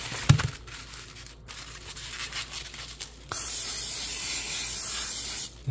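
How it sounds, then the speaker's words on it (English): Frozen sausages on a Kamado Joe grill take a steady, fairly loud hiss of spray lasting a few seconds after a short clatter, with a faint outdoor background. "Sausages I spray."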